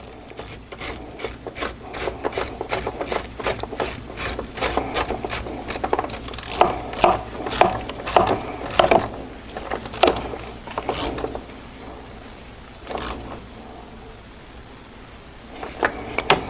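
A ratchet wrench tightens a nut on a new cooler in an Audi Q7, rapid clicking pawl strokes repeating in quick bursts, then slower isolated clicks with pauses and a final short burst.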